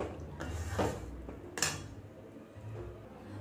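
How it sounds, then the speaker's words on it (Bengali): Chicken maharani curry goes from a pan onto a serving plate, with faint clinks and scrapes of metal against crockery, a couple of sharper knocks standing out in a quiet kitchen. "আমি একটা সার্ভিং প্লেটে ঢেলে নিয়েছি"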